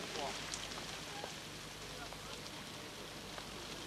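Steady rain falling on a motorcycle race track, a continuous broad hiss throughout, with faint background noise.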